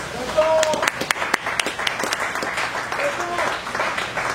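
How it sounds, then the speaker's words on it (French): At a Congolese political gathering, applause for the president of the DRC rises as scattered, uneven claps of moderate loudness, mixed with voices talking. "qui est Félix Antoine Tshisekedi Tshilombo, que nous pouvons applaudir ici."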